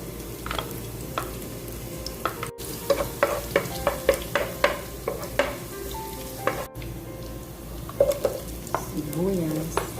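Garlic fries in oil in a home kitchen, a steady sizzle under repeated clinks and scrapes of a utensil against the pan, with no talk.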